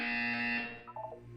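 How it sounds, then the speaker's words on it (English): A buzzer from the video game Portal 2 sounds as a steady, loud electronic tone that holds for about half a second, then fades into softer, wavering tonal blips. "You will hear a buzzer."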